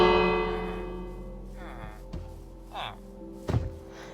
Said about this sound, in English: this little bell.